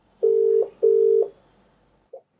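A telephone tone during a call to a viewer sounds two steady, even beeps of about half a second each, then a short faint blip, clear and close with no talking.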